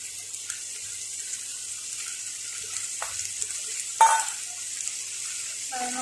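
Squid stir-fried with curry paste and beans in a pan: a steady, faint sizzle runs throughout, broken by a few brief scraping stirs and a louder clatter near the middle.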